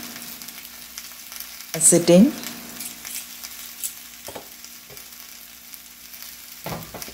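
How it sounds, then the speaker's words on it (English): Crab roasting in a pan with Indian masala spices gives a low, steady sizzle and fry, with a brief louder burst of stirring and a short spoken word early on. "So you can see them nicely sizzling now."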